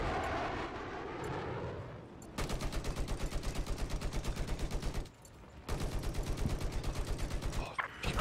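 Rapid machine gun bursts rattle in long sustained volleys, with a short pause between them, sounding like game audio from Battlefield 4 multiplayer; an earlier engine-like drone opens the clip.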